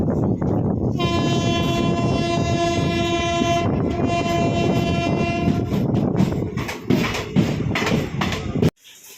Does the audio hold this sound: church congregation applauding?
no